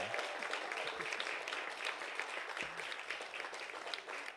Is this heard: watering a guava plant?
no